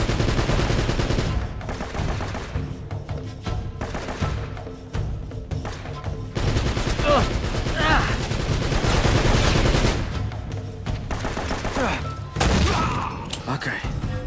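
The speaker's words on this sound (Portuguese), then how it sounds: "como é que eu vou destruir aquela metralhadora?" Machine gun fire and bursts of gunshots in Uncharted: Drake's Fortune, a steady clatter running through the whole stretch over a dense game soundscape, with a few louder surges along the way.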